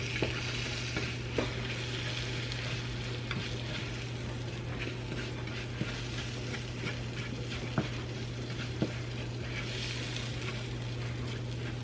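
Crushed Ritz crackers cook in a pan with a steady, soft sizzle and occasional light scrapes of stirring, alone beneath a constant low hum.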